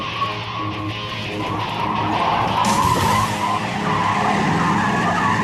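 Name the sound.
car oversteering and skidding in a slalom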